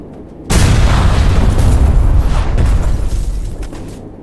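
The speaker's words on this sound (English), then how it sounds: "A grenade detonates inside, causing a massive fire and subsequent explosion." A tank blows up after a grenade detonates inside, a sudden loud boom followed by a sustained roaring rumble of fire and blast that slowly fades.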